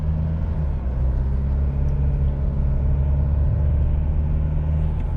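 A Nissan Navara NP300 pickup pulls away from standstill at about 30% throttle in factory standard mode, a low, steady engine rumble from inside the cab, rising gently without any sharp revving.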